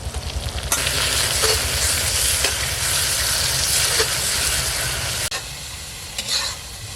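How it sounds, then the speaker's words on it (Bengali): Ginger and garlic paste frying in a village-style country red chicken curry base gives a loud, steady sizzle with repeated stirring scrapes, a brief break midway, and no talking. "এখন দিয়ে দেবো আদা বাটা রসুন বাটা"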